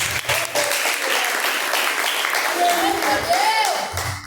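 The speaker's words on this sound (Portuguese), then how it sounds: "E as palmas bem alegres para Jesus" A church congregation claps joyfully for Jesus during a live service, with dense, steady applause throughout and a voice singing or calling faintly over it.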